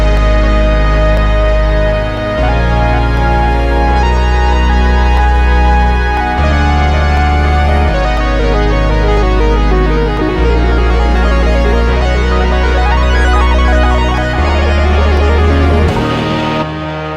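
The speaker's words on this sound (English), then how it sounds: "we also have a synth kind of lead solo come in" A Prophet 6 synthesizer plays a lead solo of sustained, bright tones over deep bass notes changing every couple of seconds, loud and full, with no talking, ending on a held root note.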